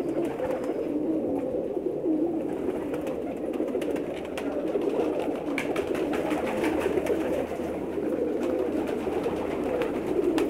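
Many Pakistani pigeons coo steadily and continuously in a low, soft chorus, close by, with faint rustling and no talking.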